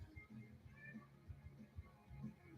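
A cat meows indoors with short, soft, low calls repeated several times, faint and close, with no other sounds over it.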